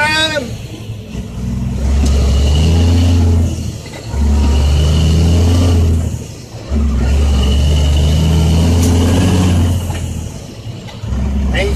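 A Caterpillar C10 engine in a dump truck runs a loud, rhythmic Jake brake. Deep, throbbing engine-brake bursts rise and fall in long cycles, close up, with rumbling truck noise between them.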